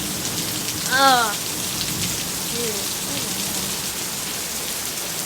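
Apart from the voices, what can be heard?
rain during a thunderstorm in Laurens, SC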